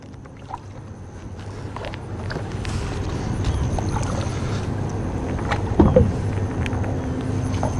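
A boat is repositioned at a launch ramp, giving a steady wash of water sloshing and hull movement with occasional knocks and thumps, fairly close and continuous throughout.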